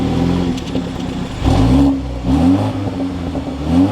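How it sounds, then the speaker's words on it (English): A 2024 BMW 330i xDrive M Sport starts up close by, its engine catching and then revving in a few quick rising and falling surges before settling. "let's start this up, take a listen to the 330."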